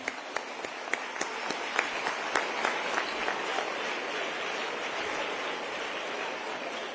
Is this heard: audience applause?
yes